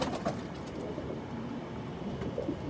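Soft, low cooing of Pakistani pigeons repeats a few times over a rumbling background hum, fairly close and unhurried, at night.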